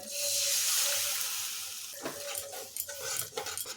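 Hot water hits frying masala for an egg curry with a loud hiss that fades, followed by close scraping and stirring of the spoon through the bubbling sauce.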